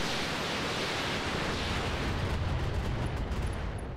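Roguetech mech combat: a dense, continuous roar of weapons fire and explosions fills the whole stretch at steady loudness, with rumbling low blasts and a few faint high electronic pings near the end.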